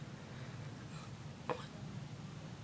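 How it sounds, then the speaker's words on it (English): A single short, quiet hiccup breaks a steady low background hum, close to the microphone and otherwise alone. "hiccups are ridiculous"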